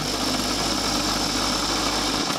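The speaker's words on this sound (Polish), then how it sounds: "Lekko syczy zawór wody." A steady, broad hiss from the water valve of a Philips LatteGo coffee machine runs continuously over a low mechanical hum, close by, with no voices.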